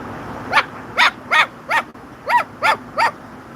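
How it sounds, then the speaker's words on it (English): A dog barks seven times in two bursts, each bark sharp and fairly close, with short even gaps between them and a quiet background. "I hear a dog too."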